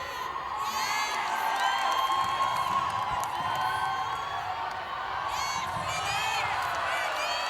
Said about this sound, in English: We've got some good crowd in the house tonight.